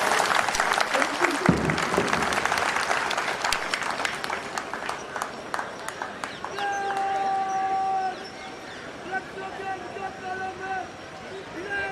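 Spectators at an ITBP passing-out parade clap loudly in a dense burst that thins to scattered claps, with a dog barking and a voice talking in between.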